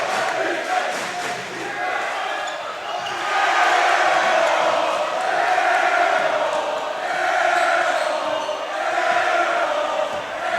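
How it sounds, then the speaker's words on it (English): High school basketball crowd at a senior boys' game between Van College and St. George's, a loud, continuous roar of cheering and shouting that swells in waves across the gym. "Well, St. George's crowd letting them know."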